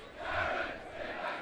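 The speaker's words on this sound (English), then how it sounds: "Boys all cheering loudly for their teams." Schoolboys cheering loudly at a high school rugby match between Grey HS and Paul Roos Gimnasium, a dense, sustained crowd roar of many young voices filling the stands without letup.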